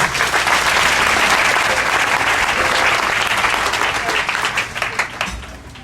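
A church congregation breaks into sustained, dense applause and cheering that fills the room, holding strong before thinning out toward the end.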